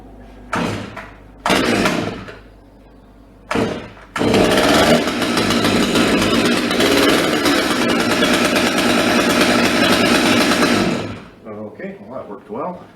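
A Stihl MS200 chainsaw with a freshly repaired start cord is pulled a few times in short bursts, then catches and runs loud and steady for about seven seconds before cutting off, leaving faint shuffling afterward.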